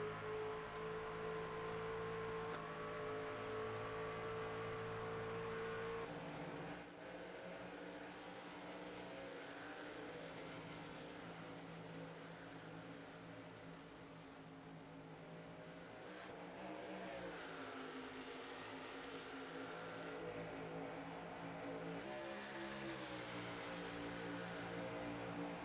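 Video game NASCAR trucks race at Kentucky Speedway, their engines droning continuously with pitch shifts as they accelerate and pass, fairly faint throughout.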